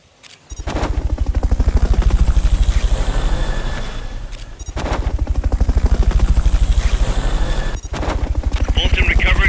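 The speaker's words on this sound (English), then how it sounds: "Fulton recovery subject confirmed onboard helicopter." A Fulton recovery helicopter in a Metal Gear video game, its rotor throbbing loud and steady with brief drops between passes.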